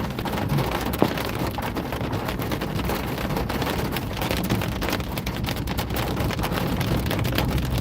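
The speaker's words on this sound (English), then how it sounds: "There's some there's some 1 1/4 inch size hailstones starting to fall." Large hailstones about 1 1/4 inches across falling in a severe storm in northeast Kansas, a dense, steady roar of impacts mixed with wind buffeting the microphone, loud and continuous with no voices.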